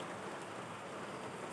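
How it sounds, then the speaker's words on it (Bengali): Heavy rain pours steadily onto a street, a dense, continuous hiss of falling water with no breaks, fairly quiet and even throughout with no voices. "কত জল, বন্ধই হচ্ছে না, এত বৃষ্টি হচ্ছে"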